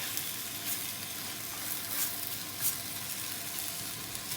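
Chicken pieces tossed in spices sizzle steadily in a pan for a chicken madras, a dense, continuous frying hiss with faint stirring scrapes, close and alone without any voices.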